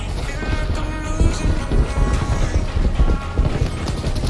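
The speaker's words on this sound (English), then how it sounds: "I heard the enemy's footsteps miles away." Rapid, regular footfalls of enemy players in the online shooter Shatterline, a steady clip-clop patter running through the whole stretch over dense game ambience, moderately loud with no voices.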